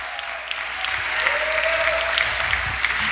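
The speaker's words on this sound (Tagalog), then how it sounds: "Palakpak" A church congregation claps together in a steady, dense round of applause filling the hall, with a faint sustained tone running beneath the clapping.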